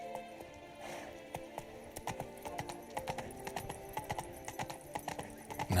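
Roach, a horse in The Witcher 3: Blood and Wine, gallops with a fast, steady clip-clop of hooves on hard ground, each strike crisp and close, continuing evenly for several seconds.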